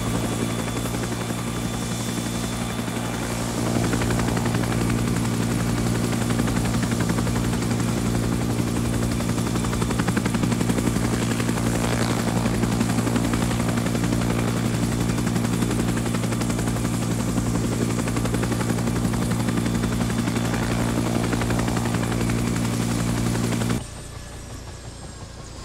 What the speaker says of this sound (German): Ja, bei mir ist ein Hubschrauber da, komm, steig ein in den.